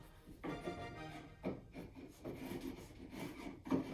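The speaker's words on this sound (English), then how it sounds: "So I'm just taking the chisel and cutting those off" A chisel pares small missed sections of wood off a picture frame, giving close, uneven scraping and rasping strokes with a few sharper bursts.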